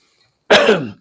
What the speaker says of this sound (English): Excuse me, America, as I cough.